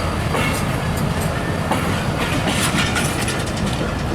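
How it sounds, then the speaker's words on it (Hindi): A long train rolls past close by on a railway track, a loud, continuous roar with rhythmic clickety-clack of wheels over rail joints. "काफ़ी लेंथी ट्रेन है।"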